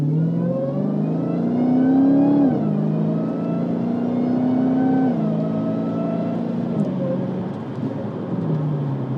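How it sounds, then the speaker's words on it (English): A 2019 Dodge Challenger SRT Hellcat Redeye accelerates hard, its supercharger whine rising and dropping with each gear change over a loud, close exhaust roar. "The supercharger whine is just glorious. It really overpowers even the exhaust noise on this thing"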